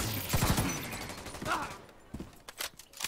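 Bursts of rapid gunfire from a street shootout in a video game, set on city streets, crack out in clusters amid game noise, with players talking over the action.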